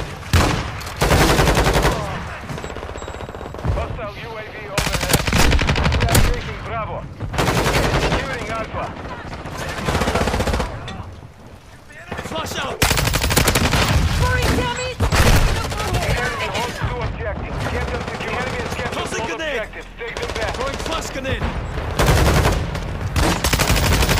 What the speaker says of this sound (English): I got hit with a flash grenade and I'm still shooting my gun